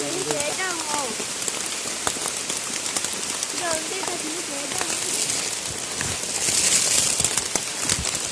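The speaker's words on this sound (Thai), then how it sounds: "ฝนมันตกแล้ว" Steady rain patters across a surface throughout, with scattered drips and a voice briefly audible underneath.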